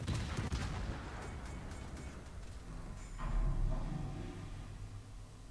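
Naval gunfire from the battleship Scharnhorst in a naval combat game, heavy booming salvos with a strong burst at the start and another rumbling volley midway, followed by a decaying low roar.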